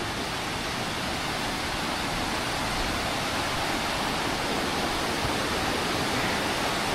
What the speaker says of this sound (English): If you look close, you can see salmon jumping up that little waterfall.